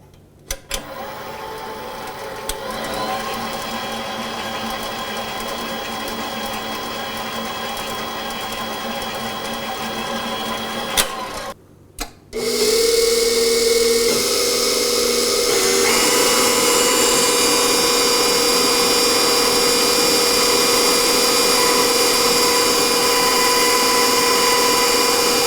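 An 8-quart KitchenAid Commercial stand mixer runs at speed 4 with a continuous whirring motor hum. It jumps to a louder, brighter whine partway through after a brief gap, then holds steady.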